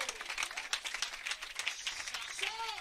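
Church congregation applauding during a French-language sermon, a steady wash of many hands clapping that stays dense and even throughout, with faint voices mixed in.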